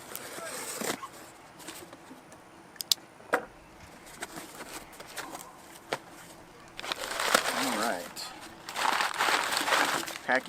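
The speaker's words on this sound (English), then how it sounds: "Packing paper." Packing paper crinkling and rustling while a drone is unboxed, in scattered bursts that grow busier and louder toward the end.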